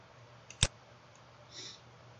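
A single sharp computer mouse click while confirming a setup step in VirtualBox software, close and clear against a quiet room hum, with a faint soft rustle afterward.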